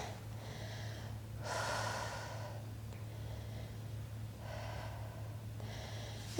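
Slow, deep breaths during a stretching workout: four long, airy inhales and exhales heard up close, spaced a few seconds apart over a steady low hum.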